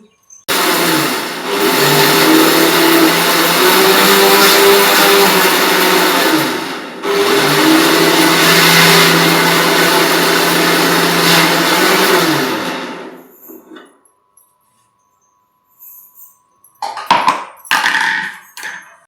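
A mixer grinder blends roasted peanuts, coconut and cooked bitter gourd in two loud, sustained whirring runs split by a brief pause, then winds down to silence, followed by a few clattering knocks.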